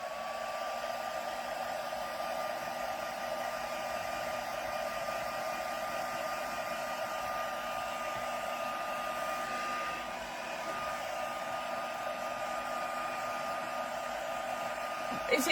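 A heat tool drying a mixed media card gives a steady, continuous whirring hum with a high whine, even and fairly faint throughout, without talk.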